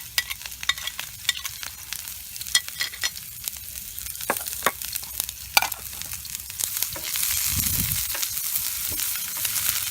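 Chopped onions, about half a cup, frying in oil in a pan after dried chillies, a continuous close sizzle punctuated by frequent sharp spatula scrapes and clicks, growing into a louder, fuller hiss near the end.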